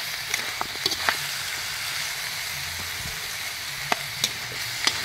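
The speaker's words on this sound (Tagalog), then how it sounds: "Magisa lang ta." Food sautés in a hot pan with a continuous close sizzle and hiss, punctuated by scattered sharp clicks and pops from stirring, with no voices.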